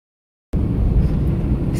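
Airplane cabin noise in flight: a steady, loud, low roar that starts abruptly after a moment of silence and holds evenly to the end.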